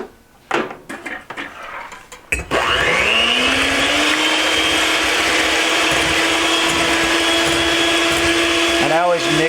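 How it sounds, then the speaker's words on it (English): An electric hand mixer starts up and runs at a steady whine while beating egg whites in a bowl, loud and continuous after a few preceding clatters and handling noises, briefly shifting pitch near the end. "Just going to use a regular hand mixer."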